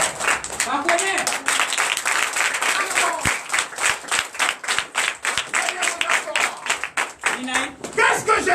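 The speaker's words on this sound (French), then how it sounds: "Donnez l'acclamation à Jésus." A church congregation at a Sunday worship service in Comè, Benin, claps and applauds loudly in an uneven, surging rhythm, with voices rising over the clapping.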